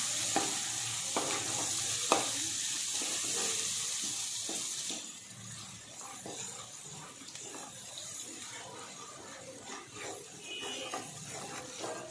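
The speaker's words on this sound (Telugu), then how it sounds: "ఇప్పుడు చికెన్ వేసేస్తున్నాను." Chicken is dropped into a hot frying pan with ginger paste for a chicken curry, bringing a burst of sizzling followed by a steady frying hiss with scraping stirs and light clinks.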